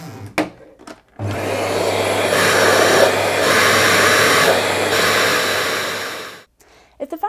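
A Dyson Big Ball cylinder vacuum cleaner, running with its hose removed, whirs loudly and steadily for several seconds with a rushing airflow roar, then shuts off, leaving brief faint rustling.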